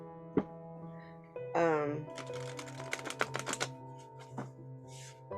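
A quick burst of crisp riffling as oracle cards are shuffled, a rapid run of papery clicks over a steady humming background tone.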